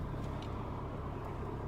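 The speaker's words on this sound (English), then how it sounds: "Bloody cars." Road traffic rumbles nearby, a steady low roar of passing cars with no clear gaps, fairly loud and continuous, with no voices over it.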